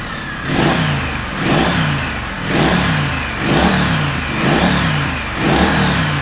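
A Triumph Street Scrambler motorcycle engine revs up repeatedly, about six rising blips in a steady rhythm dropping back to idle between, loud and close with no talking.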